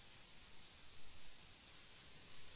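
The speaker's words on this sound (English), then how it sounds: "over the top of that I'm going to spray 3 coats of aluminium medium." A spray gun lays down coats of AutoAir aluminium medium paint, giving a steady, unbroken airy hiss that stays faint and even throughout, with no voices over it.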